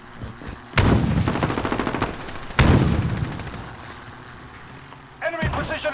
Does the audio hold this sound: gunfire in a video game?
yes